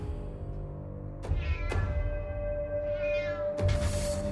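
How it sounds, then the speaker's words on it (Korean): Two or three drawn-out cat meows, close and fairly loud, rising and falling in pitch over a steady low background hum. "계속 집 주변에서 고양이 울음소리가 들린 겁니다"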